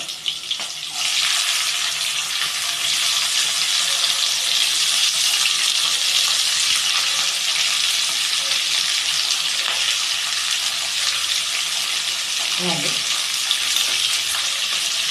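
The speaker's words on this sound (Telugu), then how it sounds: "ఇప్పుడు బీన్స్ వేస్తున్నా" Green beans sizzle and crackle steadily in a hot oiled pan while being stirred for vegetable fried rice, a loud continuous frying hiss from start to end with a brief scrape near the close.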